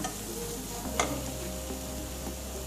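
Chicken pieces go into a pan of toasted spice powders for chicken kurma and sizzle steadily, a soft, continuous frying hiss with a light clink of a utensil near the start and no talking.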